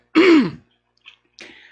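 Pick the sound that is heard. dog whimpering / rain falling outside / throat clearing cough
throat clearing cough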